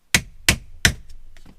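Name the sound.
hammer tapping plastic trim tool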